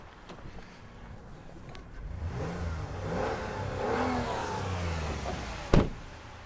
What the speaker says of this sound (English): Now if I go hit the gas a couple times